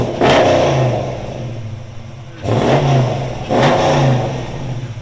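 A 2021 Dodge Challenger Shaker with a 5.7L HEMI V8, headers and Flowmaster Super 10 exhaust revs three times in succession, loud and close, with a deep rumbling burble between the throttle blips.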